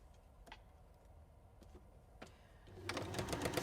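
A sewing machine stitches a fabric seam, starting with a few sparse clicks and then breaking into a fast, rattling run of stitches that grows louder toward the end.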